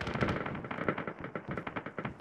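Enemy gunfire in an Arma 3 Warhammer 40K themed operation: a rapid run of sharp cracks and bursts at close to mid range, irregular and overlapping, with no talking.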